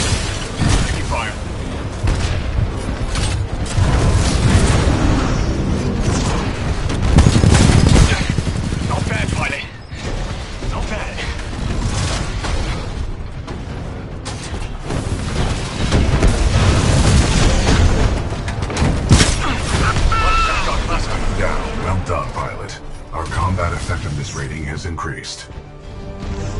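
Constant gunfire and booming explosions in the Titanfall 2 campaign, dense and loud for the whole stretch, with voices speaking over the battle.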